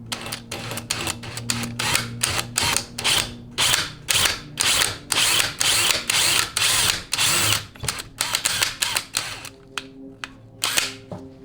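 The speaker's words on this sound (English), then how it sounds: "So you're going to drill at an angle, probably about like maybe 45 degrees" A power drill whirs in repeated short bursts, drilling a hole at an angle for a 4L80E transmission lube modification, starting and stopping in an uneven rhythm, close by, with a low hum underneath.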